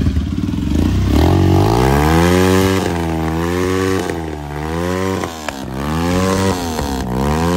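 A Suzuki RM 250 dirt bike engine fires up close and loud, then revs repeatedly in rising and falling surges over a steady two-stroke drone, with no talk.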